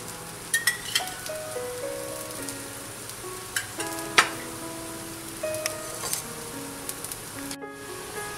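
Akki rotti, a rice flour roti, fries in a little oil on a hot pan, giving a soft steady sizzle with scattered small pops and crackles, no voices.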